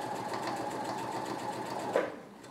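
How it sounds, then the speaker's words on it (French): A sewing machine stitches through four layers of fabric with a steady, close mechanical whir. It ends in a brief louder clunk as it stops. "Je suis en train de piquer les 4 épaisseurs à 1 cm."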